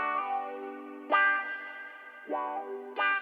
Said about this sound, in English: I kind of added this funky guitar part here.